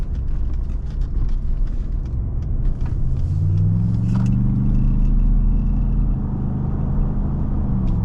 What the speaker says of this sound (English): These Cooper mud terrain tires, you can definitely hear them howling as you're driving down the highway at these highway speeds